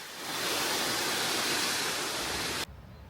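Bidulginang waterfall on the Hantan River in Korea roars in a broad, steady rush of falling water, loud and close, before cutting abruptly to quieter background.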